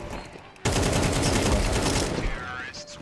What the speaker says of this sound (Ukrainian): О май гад, який крутий калаш.